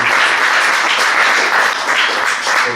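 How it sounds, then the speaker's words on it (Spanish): A panel audience in Benavente gives loud, close, sustained applause for three speakers after a talk on the economic crisis, a thick, steady roar of many hands clapping without pause. "pues un aplauso para los tres."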